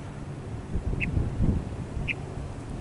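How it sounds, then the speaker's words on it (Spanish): A small bird in the desert gives two short, sharp calls about a second apart over a low rumble of wind or background noise, fairly near and clear. "Y ese pajarito sigue gritándonos que nos vayamos de aquí."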